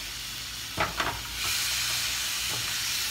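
Shrimp cook in a hot pan with lime juice, giving a steady bright sizzle and hiss close up, with a couple of brief stirring scrapes early on, no voices.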